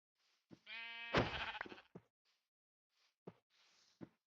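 One loud, wavering sheep bleat from Minecraft rings out clearly, followed by a few soft clicks and short taps from the game, with no talking.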